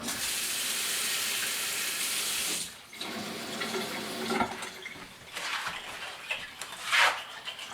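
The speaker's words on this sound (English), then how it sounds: "So we are going to just add some cold water to this now." Cold water runs steadily from a tap into a sausage meat mixture for breakfast sausage, a loud continuous stream that stops, followed by quieter splashes, clinks and handling noises close by.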